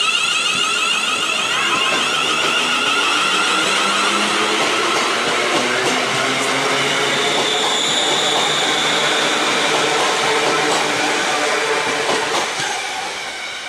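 Class 380 passenger train 38112 departing Ardrossan South Beach station toward Ardrossan Harbour, a close, sustained electric whine and rumble with rolling wheel clatter, steady throughout and easing slightly at the end.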